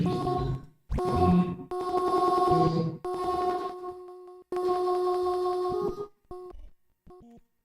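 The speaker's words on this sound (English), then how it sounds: "You can even get these really glitchy sounds." Glitchy granular synthesis built from a sampled waveform, heard as choppy tonal bursts with steady harmonic pitches that start and stop abruptly, ending in short stuttering fragments; no talking.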